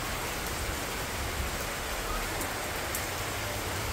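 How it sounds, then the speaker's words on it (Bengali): Heavy rain pours down in a constant dense hiss, even and unbroken, with no voices over it. "এইরকম বৃষ্টি পড়ছে"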